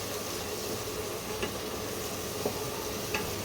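Masala for a prawn malai curry being sautéed and stirred in a little oil, a dense steady sizzle and hiss with a few faint spoon taps against the pan, close up and without speech.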